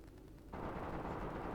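Distant gunfire from a video game firefight starts abruptly after half a second and keeps up as a faint, sustained crackling rumble with no talk over it.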